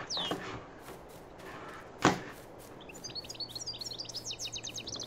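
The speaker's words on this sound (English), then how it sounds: "you can hear a lot of the environment sounds and the birds and everything else" Birdsong ambience on the Wastelands farm map in a video game, with bright chirps and trills over soft background noise, one sharp slam-like knock midway, then a run of quick repeated tweets.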